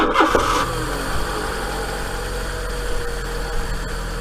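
A Fiat Punto 1.2 petrol engine, just fitted with a new rocker cover gasket, cranks and catches in the first half-second, then settles into a steady, close idle.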